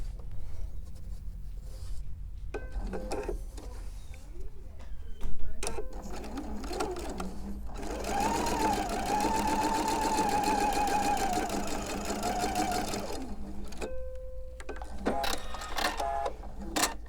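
A domestic sewing machine stitches fabric for a quilt sampler block in steady running bursts, near and clear, separated by pauses with handling noise and a brief stretch of low talk.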